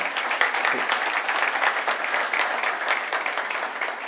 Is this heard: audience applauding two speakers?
yes